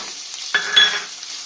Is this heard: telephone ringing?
no